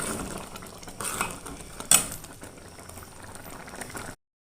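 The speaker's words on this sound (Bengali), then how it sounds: "মানে সেদ্ধ হয়ে গেছে চালগুলো। তো আরেকটু কিছুক্ষণ রাখবো, মানে আরেকটু ঘন করার ইচ্ছা আছে" Rice pudding simmering in a pot, a soft bubbling with light metallic clinks from the pot and utensils and one sharper clatter partway through, fairly quiet and close with no voices.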